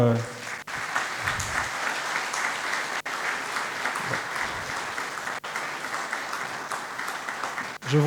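Sustained applause fills a conference hall during a formal presentation with a vice prime minister present, a dense steady clatter of many hands lasting several seconds, with a faint voice underneath.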